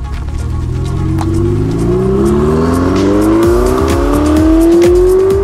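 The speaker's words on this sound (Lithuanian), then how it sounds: "Užvedam automobilį" A Ferrari 488 Spider engine starts and roars, climbing steadily in pitch as it revs and accelerates, loud and close throughout.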